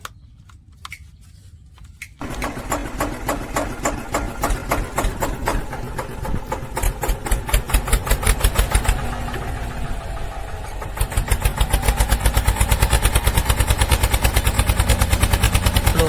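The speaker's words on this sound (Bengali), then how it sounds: "চলো ট্রেক্টর স্টার্ট করো, স্টার্ট করো।" A small homemade toy tractor engine starts after a short quiet moment, then runs on in a steady, fast, rattling chug that grows slightly louder and stays close throughout.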